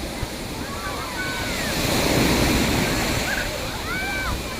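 Sea waves at high tide wash up onto the sand of Rushan's beach in early August, a broad hissing surge that swells and recedes, with faint voices and chirpy calls scattered over the steady roar.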